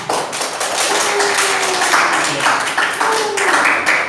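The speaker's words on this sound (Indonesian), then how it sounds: "Kita tepuk tangan untuk kita semua" A classroom group claps together after a student presentation, a dense stretch of overlapping hand claps with some voices and murmurs mixed in throughout.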